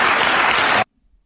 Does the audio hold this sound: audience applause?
yes